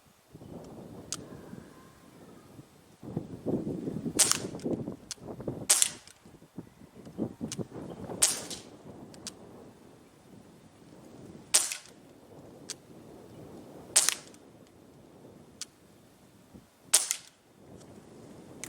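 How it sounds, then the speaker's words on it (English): Tanfoglio Witness 1911 pistol fired at a 10-meter range: six crisp, fairly distant-sounding shots spaced one to three seconds apart, over outdoor wind noise. "So 10 meter shooting."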